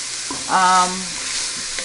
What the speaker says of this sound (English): now that it's brown, you hear it sizzling